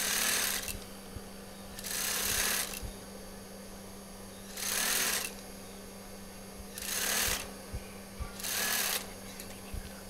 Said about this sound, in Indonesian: Nah, di sini kita pasin, kita jahit sesuaikan dengan batas sambungan ya atau garis yang sudah saya buat.